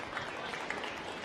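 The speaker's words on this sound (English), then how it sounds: "And clap." Audience applause at a live garage-themed show, a steady wash of clapping from a small crowd that stays even and moderately loud for its whole short length.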